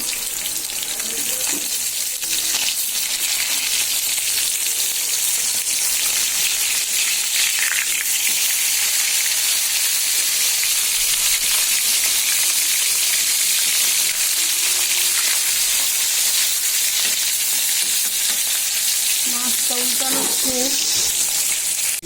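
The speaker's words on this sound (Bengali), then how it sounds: "এখানে যে মাছ ভাজতেছি" Rohu fish pieces fry in hot oil in a pan on a gas stove, giving a steady close sizzle and crackle that runs unbroken throughout, with a few faint kitchen clatters near the end.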